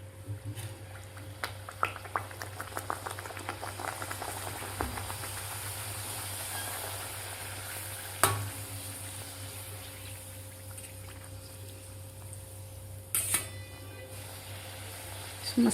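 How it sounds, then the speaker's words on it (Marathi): Mango gharge puris deep-fry in hot oil, giving a steady, low bubbling hiss with a faint hum beneath and a few brief clatters. "दुसरी सुद्धा आपल्याला पुरी तळून घ्यायची आहे व्यवस्थित"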